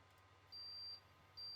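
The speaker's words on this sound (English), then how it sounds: "what I would have that would make sort of a beeping sound. And then I realized my waffle maker" A thin, high electronic beep from a waffle maker sounds twice, each held for about half a second, with a pause between them over a quiet background hum.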